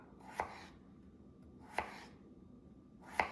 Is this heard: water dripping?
no